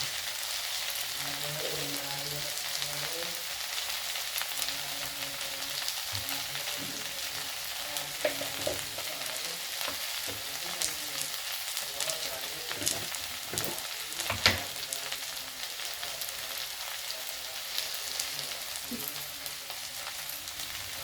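Okra fries in a pan with a steady, close sizzle and crackle, with occasional soft stirring scrapes throughout and no talk.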